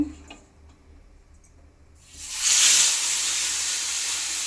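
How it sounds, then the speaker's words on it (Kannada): Fish landing in hot oil on a tawa, starting after a quiet pause with a sudden loud hiss that swells into a steady, strong sizzle and continues to the end. "ಎಣ್ಣೆ ಕಾಯ್ದಾದ ಮೇಲೆ ಅದ್ರ ಮೇಲೆ ಫಿಶ್ ಹಾಕಬೇಕು ಫಿಶನ್ನು ಹಾಕ್ತಾಯಿದ್ದೀನಿ"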